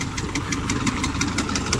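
Tractor engine running on a farm during spraying of pigeon pea crops, a steady mid-pitched engine drone with a rapid regular knocking pulse, close and continuous.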